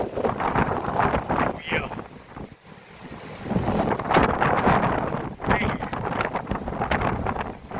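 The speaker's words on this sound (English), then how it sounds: "Ooh, that wind hawking out here." Strong hurricane wind roars and buffets the microphone outdoors in loud, surging gusts that fill the whole clip, while someone talks briefly over it.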